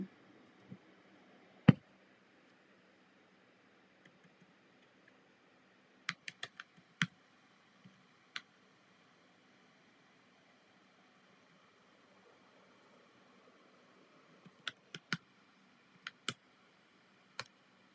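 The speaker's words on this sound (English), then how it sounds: "I'm just gonna type it in here so that you can do it." Keys tapped on a computer keyboard in scattered short bursts, a single sharp click early on, then clusters of quick taps, a few isolated strokes and a final flurry, all faint over a quiet background hum, with no talking.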